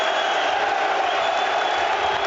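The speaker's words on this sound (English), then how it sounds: "Todd Cantwell's departure brings a cheer almost as loud as the Celtic goals" A football crowd at a Celtic versus Rangers match cheering as Todd Cantwell walks off the pitch, a steady roaring wall of distant stadium noise holding at an even level throughout.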